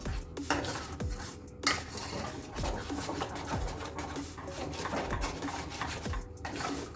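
Halwa mixture with red food colouring being stirred in a pan, a steady run of metal spoon scrapes and clinks against the pan with a dense bubbling, clattering texture throughout.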